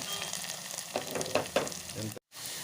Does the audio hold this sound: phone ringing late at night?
no